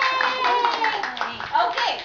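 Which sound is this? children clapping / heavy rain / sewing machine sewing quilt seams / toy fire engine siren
children clapping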